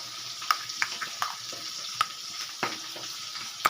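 Ginger, garlic and dried chilli paste goes into a pan with grated onion for a fish curry, frying with a soft sizzle broken by sharp spoon clinks and scraping stirs, close and fairly quiet.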